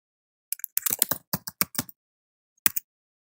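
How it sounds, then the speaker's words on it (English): Someone types a password on a computer keyboard: a quick burst of about a dozen crisp, close key clicks, a short pause, then two or three final taps, with silence in between. "I will type this in. And then my password."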